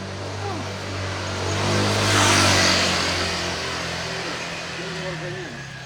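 A car passes along a road at night, its engine swelling louder toward the middle and fading again, with people talking over it throughout.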